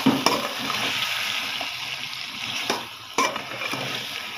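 Curry base with potatoes set aside, being stirred and fried down in a pan: a steady broadband sizzle with scattered scraping stir strokes, close and continuous, no talking.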